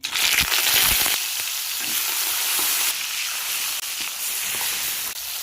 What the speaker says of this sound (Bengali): মাছগুলোকে হালকাভাবেই ভাজবো